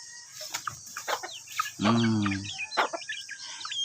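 Chickens cluck close by in short irregular bursts, with one louder drawn-out squawk near the middle and faint bird chirps in the background.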